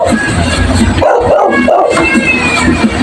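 A dog barks and yips close by at home amid household commotion, several short sharp barks and whimpers in the middle of the stretch, with people's voices mixed in around them.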